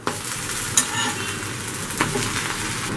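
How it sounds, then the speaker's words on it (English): Garlic bread toast sizzles steadily on a tawa as it is flipped, a close continuous frying hiss with a couple of light clinks of the turner against the pan. "And slowly flip it to the other side."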